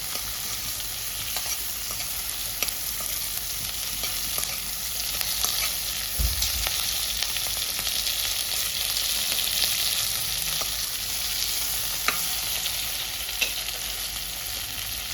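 Tomato masala for egg malai gravy fries steadily on a low gas flame, a loud, even hiss of sizzling with occasional faint stirring clicks and no speech.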